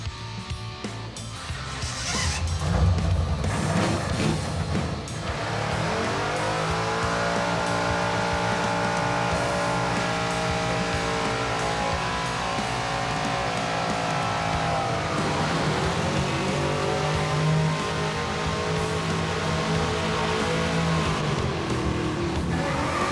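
A Ford Fairmont cruises along the road with its engine humming steadily, rising and easing as it shifts through gears, loud and close with wind noise and no talk.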